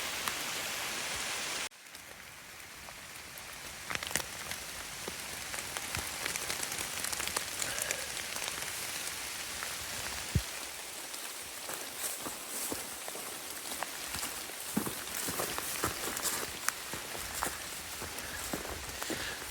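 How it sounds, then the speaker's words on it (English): Steady moderate rain falls at the southern terminus of the Ozark Trail near Eleven Point, a dense close hiss of drops on surfaces that continues without break for the whole stretch, with no voices. "it's been raining pretty moderately to even more than moderately all day long"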